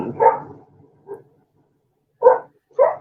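A dog barks in short bursts: one strong bark, a softer yip, then a pause and two more sharp barks close by, with no talk over them.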